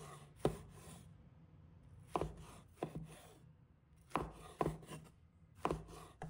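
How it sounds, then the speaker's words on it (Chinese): A knife chops luffa (sponge gourd) into even short pieces on a wooden board, giving crisp, close, separate thuds in small bursts with quiet gaps between them. "把丝瓜切成均匀的小段"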